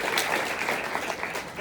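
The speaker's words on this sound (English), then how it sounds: "can we give them all a round of applause?" Applause for graduating seniors at a Queens College ceremony, a dense steady wash of clapping from a large crowd with voices mixed in.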